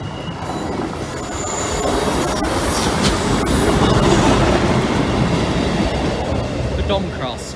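A train runs through a railway station on the through line, a loud, steady roar of wheels on rail with squealing and clatter that swells and holds close by.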